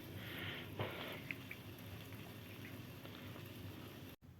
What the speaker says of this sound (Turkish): Gördüğünüz gibi suyumuz kaynıyor